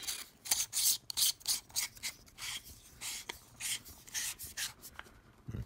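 Parts of an Ozark Trail focusing LED flashlight are screwed together, giving a series of short, close, dry scraping and rasping strokes of threads turning, with brief pauses between them.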